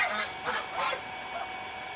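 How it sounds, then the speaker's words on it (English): Several loud goose honks from backyard birds near their nest, arriving in uneven bursts over a couple of seconds at moderate distance, with no talking. "Papa Goose. There they go, folks"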